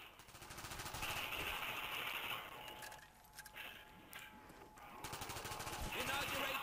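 Rapid automatic gunfire in the video game Black Ops 1 rattles in dense bursts through most of the clip and eases briefly in the middle, with game sounds layered underneath.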